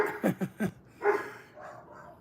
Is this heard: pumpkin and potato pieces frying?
no